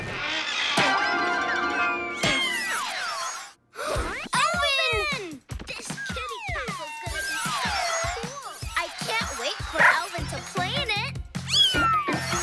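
A cartoon kitten meows in a string of high, sliding cries mixed with gasps and sighs, loud and close, over lively music with voices speaking alongside.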